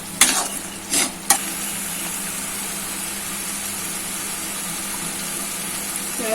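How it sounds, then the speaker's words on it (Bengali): Spice masala fries in oil for a Bengali chhana kofta curry, a steady close sizzle throughout with a few short scraping stirs near the start. "এখন একটু নাড়তে হবে মশলা থেকে তেল"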